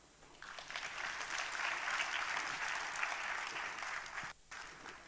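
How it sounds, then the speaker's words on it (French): Steady applause from an audience, sustained for several seconds, with a brief dip near the end before resuming. "Et ça doit s'applaudir."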